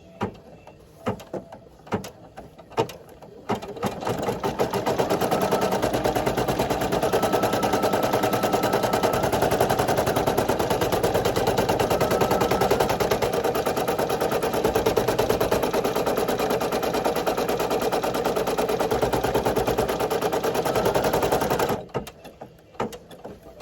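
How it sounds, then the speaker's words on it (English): An embroidery machine stitches out an appliqué letter K, running as a loud, continuous rapid needle clatter for about eighteen seconds, preceded and followed by a few sharp clicks and handling taps. "the machine is going to stitch out the K"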